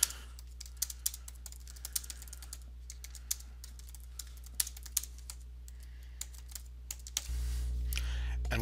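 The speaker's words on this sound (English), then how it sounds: "I'm going to type a comment." Close computer keyboard typing of a comment, irregular light key clicks over a low hum, ending in a louder steady background noise during the final second; no speech.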